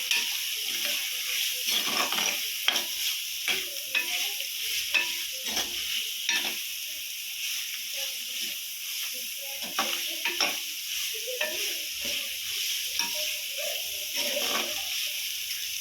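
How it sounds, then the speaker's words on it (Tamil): Two large onions sautéing in a pan for chicken kulambu, with a steady close sizzle and frequent scraping stirs clicking through it from start to end. "2 பெரிய வெங்காயம், நல்லா வதக்கிக்கலாம்."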